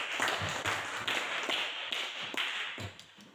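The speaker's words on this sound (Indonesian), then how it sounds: "Oke, tepuk tangan untuk Loli" Scattered hand claps from a classroom of students applauding a classmate, a quick run of sharp, fairly close taps at uneven intervals with no talking.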